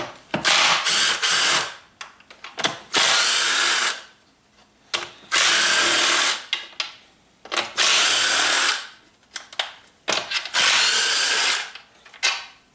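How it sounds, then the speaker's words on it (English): Power tool, likely a drill or ratchet, working an 8mm socket on bolts of a 2002 PT Cruiser engine during valve cover work, heard as loud, close bursts of whirring several seconds long separated by brief pauses. "I'm going to start by removing these with an 8mm."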